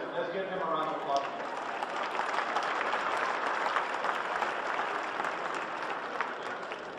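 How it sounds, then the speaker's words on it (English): An audience at an awards evening gives a sustained round of applause, steady and full throughout, with a voice faintly present underneath. "Let's give him a round of applause"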